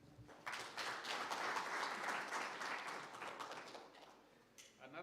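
An audience at a strategic plan launch event claps, a burst of applause that starts abruptly, holds for a few seconds, then thins out, fairly faint, with a voice speaking underneath.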